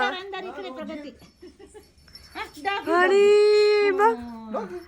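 A dog whimpers in drawn-out, high whines among people talking nearby, the loudest whine rising near the end.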